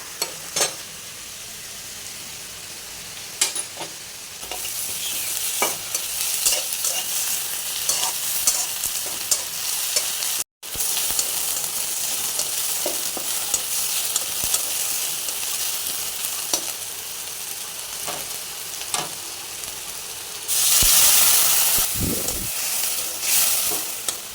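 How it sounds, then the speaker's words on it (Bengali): Onions browned in a pan frying with garlic paste, a steady loud sizzle broken by repeated scraping stirs, with a brief dropout midway and a harsher hiss surging near the end. "আমার পেঁয়াজটা হচ্ছে পেঁয়াজটা লাল হয়ে এসেছে এখন আমি এখানে রসুন বাটা দিয়ে দেবো"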